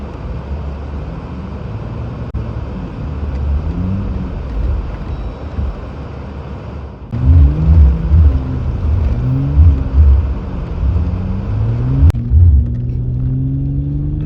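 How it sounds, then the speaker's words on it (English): An off-road vehicle's engine labors as it is winched up a steep trail, a low rumbling drone that swells and dips in pitch, growing louder partway through before settling into a steady strain. "Alan's going to try to winch you up"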